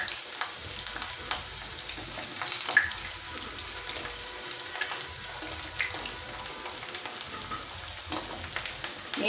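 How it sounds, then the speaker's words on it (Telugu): Drumsticks (munakkaya) frying in a pan for perugu pachadi give a steady, close sizzle and crackle with a few light stirring scrapes, and no one talks. "ఇవి మనం ఫ్రై చేసుకుందాం."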